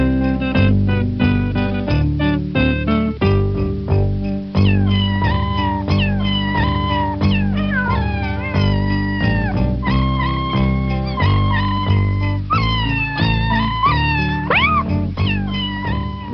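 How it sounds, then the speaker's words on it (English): Cats meow along to a studio recording of Jingle Bells, their repeated, pitched meows and caterwauls carrying the tune in a steady rhythm over the musical backing, loud and up front throughout. "he started meowing along with song that I was working on, and I was working on Jingle Bells"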